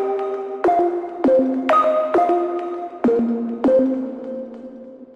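A future garage sine pluck from a software synth plays a phrase of about seven clicky, bell-like notes through reverb, each tail washing into the next and leaving a soft lingering haze, with no talking.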